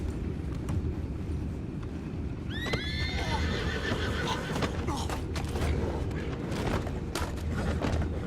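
A horse in the Red Dead Redemption 2 video game whinnies twice in rising, wavering calls over a steady bed of hoof clops and creaking tack, with outdoor ambience throughout.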